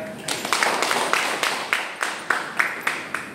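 A small audience claps at a classroom-style talk, a thin patter of handclaps in a loose, fairly steady rhythm for a few seconds, moderately close with no voices over it.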